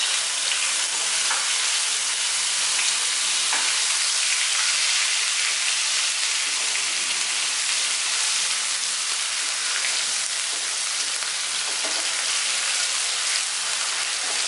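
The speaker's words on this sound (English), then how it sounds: "We have to cook this paste till it turns a little transparent and the water is completely reduced and it starts separating the oil." Onion and ginger paste frying in oil in a kadai, a dense, continuous hissing sizzle like heavy rain, steady and close for the whole stretch with no voices.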